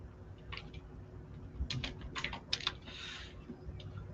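Quiet keyboard typing on a computer, a few scattered keystrokes followed by a quicker cluster of clicks, close but soft over a low steady room hum, with nobody talking.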